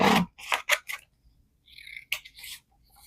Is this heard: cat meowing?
no